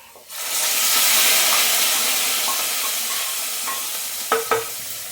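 Curry gravy for a prawn and mango curry poured into a hot pan, a steady loud sizzling hiss that starts abruptly and fades slightly, with a couple of clinks near the end.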